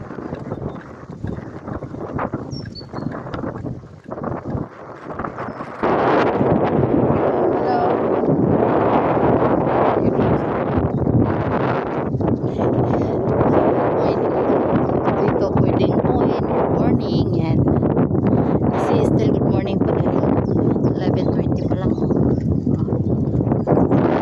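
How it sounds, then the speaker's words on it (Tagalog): Strong, cold spring wind in Germany buffets the microphone in a loud, continuous rush that grows heavier after the first few seconds. "grabe ang frisco ng hangin"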